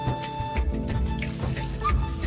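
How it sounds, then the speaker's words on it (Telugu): Water is poured into a pot of lentils with sorrel leaves (chukka kura dal) on a village hearth, a short splashing pour heard over a steady tonal background. "కొంచెం వాటర్ వేసుకుందామండి"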